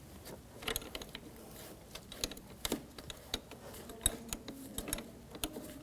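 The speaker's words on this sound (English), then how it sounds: "On the negative side, we're going to use a 10mm wrench." A 10mm wrench works the negative battery terminal nut on a 2004-2009 Audi A4 Quattro 2.0L, giving repeated sharp metallic ratchet clicks and clinks in an irregular rhythm, close and clear with no talk.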